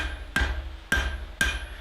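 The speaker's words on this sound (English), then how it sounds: "I'm stepping down to a slightly smaller hammer" A smaller hammer strikes hot iron on an anvil three times at an even, unhurried pace while forging rustic barn door hardware. Each blow rings sharp and close, then fades quickly, with no talking.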